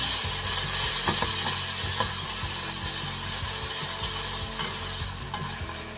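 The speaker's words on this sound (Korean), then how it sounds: "마늘, 기름 이렇게 계속 섞어주셔야 돼요" Garlic and oil are stirred continuously in a pan for aglio e olio, a steady close sizzle with rhythmic scraping strokes of a utensil across the pan, with no talk.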